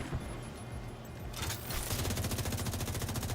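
An enemy turret in The Division 2 fires at the player, quiet at first and then erupting into rapid, continuous automatic gunfire that keeps hammering steadily to the end.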